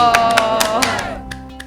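Several sharp claps ring out over the tail of a lively Korean panel show, scattered hand claps and a small group cheer at close range, fading after a second.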